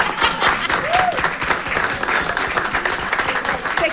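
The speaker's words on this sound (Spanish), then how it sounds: "Nancy Duplá, un aplauso, por favor" A studio audience at a comedy talk show breaks into steady, close applause that holds for several seconds, with a brief vocal tone rising over the clapping.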